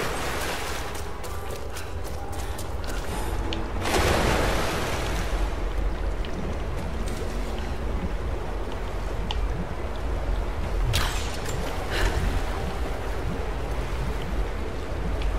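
Rushing water fills a flooded bath chamber in Rise of the Tomb Raider as the water level rises, a steady loud wash with surges of splashing.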